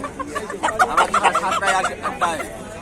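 Sonali chickens cluck and chatter in a busy roadside market, a close cluster of repeated clucks mixed with people talking nearby.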